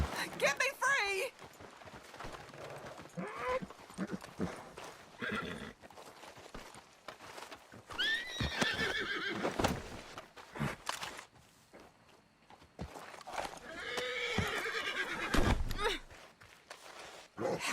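Horses whinny loudly several times amid clopping hooves and footsteps, with shouting voices and scuffling in between, in the video game Red Dead Redemption 2.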